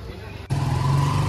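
A motorized tricycle in Puerto Galera, its engine rumbling low and steady and jumping louder partway through as it revs, with voices talking over it.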